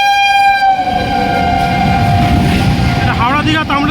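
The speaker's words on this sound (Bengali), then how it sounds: "হাওড়া দীঘা তামলিপ্তব এক্সপ্রেস আসছে দেখুন" The Howrah–Digha Tamralipta Express passes through a station with a loud, sustained horn blast over the close rumble and clatter of the approaching train, with people talking nearby.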